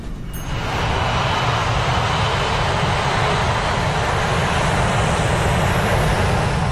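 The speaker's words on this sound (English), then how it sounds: "At 1:25, flight 243 is ready for takeoff." An airliner on flight 243 takes off, its engines building into a loud, steady roar that swells after the first second and holds close and continuous with no talking.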